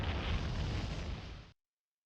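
A space video game explosion roars as a dense blast of noise that holds for about a second and a half and then cuts off abruptly into silence.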